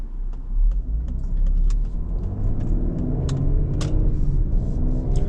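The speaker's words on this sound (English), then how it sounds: "it drops the RPMs a lot faster in normal mode than it does in sport mode" A 2021 Ford Explorer ST pulling away in normal drive mode on a busy road, its engine a steady low rumble heard from inside the cabin, with faint clicks and rattles over continuous road noise.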